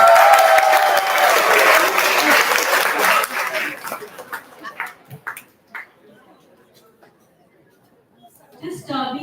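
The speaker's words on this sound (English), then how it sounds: "So big round of applause to" An event audience applauds the organizers who put the program together, loud and dense clapping with crowd chatter that fades away after a few seconds, leaving scattered claps and a brief burst at the end.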